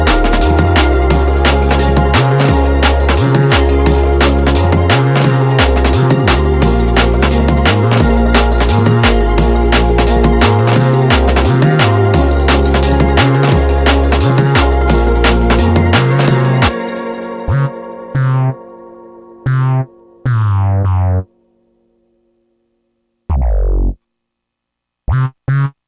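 An electronic dance music track in production plays back loud, with a dense driving beat and pulsing synths that suddenly drop out into a few short, stuttering chopped bursts separated by silence.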